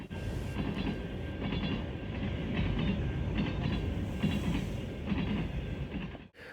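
Freight cars of a Canadian National mixed train, including a string of BN hoppers, rumble past with steady rhythmic clatter of wheels on rail joints, loud and close, ending abruptly.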